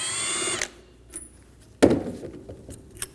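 A power tool spins briefly to remove the idler pulley bolt with a 14mm socket on a 2008-2015 Scion xB 2.4L four-cylinder engine, a short whirring burst followed by clanks and a sharp metallic knock, close by.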